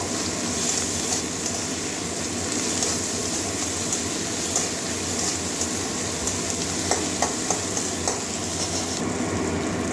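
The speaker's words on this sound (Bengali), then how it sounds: "আদা রসুনটা দিয়ে দিচ্ছি এটা কাঁচা গন্ধ দেওয়া পর্যন্ত ভেজে নেব" Ginger garlic paste frying in a pan, a loud continuous hissing sizzle with faint occasional stirring clicks, close and unbroken throughout.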